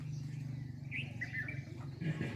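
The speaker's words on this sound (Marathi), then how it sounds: "पक्ष्यांचा किलबिलाट चालू आहे." Faint bird chirps and short tweets rise over a low steady hum, distant and sparse, outdoors near a temple on a foggy morning.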